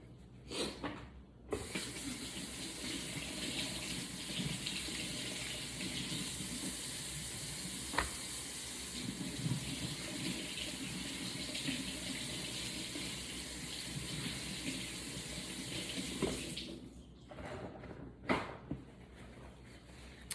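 Kitchen tap water runs steadily into a sink while vegetables are washed, a continuous hissing splash with a few clunks and handling knocks near the start and end, no speech.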